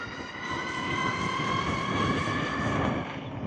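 A home-built 72-volt mid-drive electric bike motor running under throttle, a steady whining hum with several layered tones over a rough low rumble, loud and continuous for the whole stretch.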